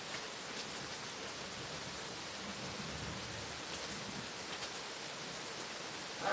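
Rain falls on a quiet Sunday morning as a soft, steady, even hiss with a few faint ticks of drops, with no voices.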